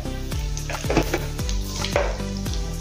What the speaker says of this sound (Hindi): तेल गरम हो गया है, जीरा डालेंगे 1 चम्मच